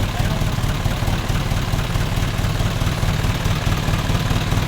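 Isuzu 4HF1 diesel engine running rough, a steady dense rumble with a shaky low-end beat, close and loud throughout with no pauses.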